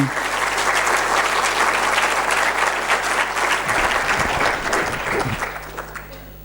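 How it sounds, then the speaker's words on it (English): Warm applause from an audience greeting ten startup competition finalists at an awards ceremony in Greece, steady dense clapping that fills the room and tapers off near the end. "Give them a warm applause."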